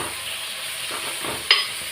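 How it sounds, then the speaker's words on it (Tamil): Bitter gourd pieces fry in hot oil with a soft, continuous sizzle, joined by a few light stirring scrapes and a brief sharper crackle near the end. "இந்த எண்ணெயிலே நம்ம ஃப்ரை பண்ணிக்கணும்."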